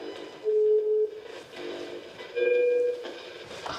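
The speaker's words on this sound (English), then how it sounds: "the pleading call button tones continue" Two steady electronic tones from a call button sound a couple of seconds apart, each held for about half a second, over a low hissing room background.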